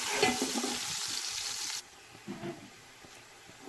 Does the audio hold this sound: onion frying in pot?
yes